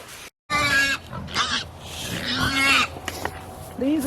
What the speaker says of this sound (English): These are the rest of the pigs.